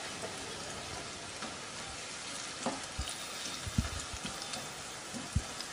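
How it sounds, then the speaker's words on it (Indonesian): Tempeh frying in a pan, a steady soft sizzle with scattered pops and crackles and occasional louder spatters, close and without talk. "Nah, kita juga goreng tempenya sampai nanti mateng."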